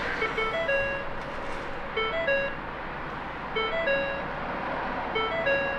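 A Ford Mustang S650's warning chime repeats in regular bursts of bright, tonal dings over a low, steady hum from the car.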